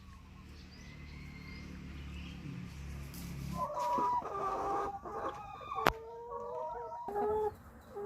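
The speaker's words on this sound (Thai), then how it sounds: "มาให้อาหารไก่ค่ะ" Hens cluck and squawk at a backyard coop during morning feeding, starting after a low rumble and growing into busy overlapping calls, with a rooster crowing once nearby and a sharp tap partway through.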